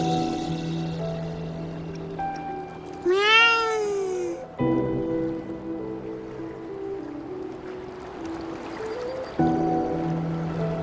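A white cat in the video game Wuthering Waves gives a single rising-then-falling meow over a steady layer of game ambience and music.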